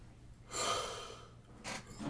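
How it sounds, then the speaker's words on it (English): A person yawns close by, with a long breathy inhale and a shorter breathy follow-up, with no talk. "One more yawn."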